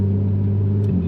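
A tuned Porsche Cayman GT4.5 engine with a raised redline drones loud and close on the Nürburgring, a steady strong tone held at high revs.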